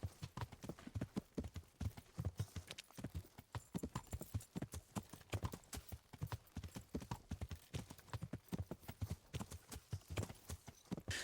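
Horse hooves galloping in a video game, a fast, even clip-clop rhythm running continuously and close, fairly quiet overall with no talk.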